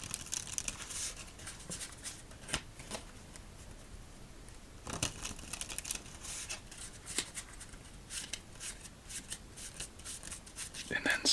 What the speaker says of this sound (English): 5 more shuffles